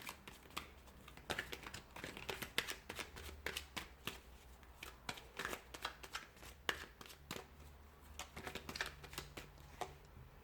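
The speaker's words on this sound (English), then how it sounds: "we'll give the cards a shuffle" A deck of tarot cards is shuffled in quiet, rapid riffles and soft slaps, a continuous crisp fluttering close by at low volume.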